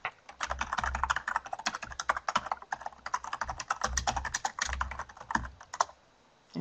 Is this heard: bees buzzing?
no